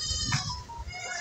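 Goats bleat at a cattle farm holding a herd of about fifty-six, one close nasal bleat followed by a fainter wavering cry amid low background noise.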